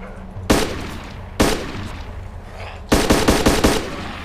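Gunfire in the survival video game DayZ: two separate loud shots, then a rapid burst of several shots near the end, all sharp and close with no talk over them.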